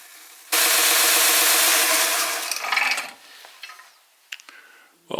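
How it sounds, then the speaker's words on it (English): A woodturning tool is pressed against a 60 grit wheel on an Axminster sharpening system, giving a loud, harsh, sustained grinding rasp for about two seconds that fades into softer scraping and a few small knocks. "that's given it quite a nice grind off the 60 grit"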